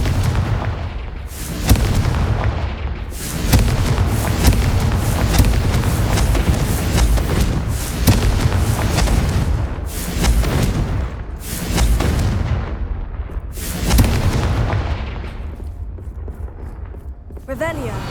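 Repeated loud Confringo blasting-spell explosions in Hogwarts Legacy, a series of heavy booming bursts spaced every couple of seconds over a continuous rumbling game soundscape, with a voice speaking at times.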